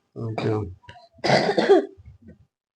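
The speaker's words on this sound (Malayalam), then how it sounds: "ചെറുങ്ങനെ ഒരു ചുമ പോലെ ഉണ്ട്" A person gives two close, rough coughs about a second apart, the second longer and throatier, followed by a faint breathy trailing sound in a quiet room.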